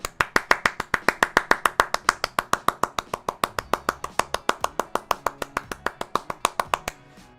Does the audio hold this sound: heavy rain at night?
no